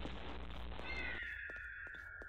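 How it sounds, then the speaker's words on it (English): A cat meows once in a horror video game, a drawn-out wavering mew rising out of a dull rumbling ambience and fading, with no talk over it. "Cat meow."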